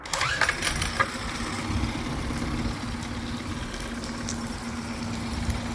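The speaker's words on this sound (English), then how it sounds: "So the engine's running good" A 2013 Tohatsu 8hp outboard motor fires up with a burst of noise, then settles into a steady, close running drone with a constant low hum throughout.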